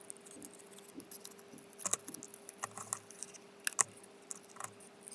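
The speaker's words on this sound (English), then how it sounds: "using the scissors, I'm going to cut out all of that leftover foam" Scissors cutting leftover foam give quiet, close, irregular snips and soft rustles in uneven bursts, with no talking.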